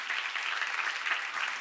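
A church congregation claps together during a sermon, a steady, dense wash of applause running throughout without any voices.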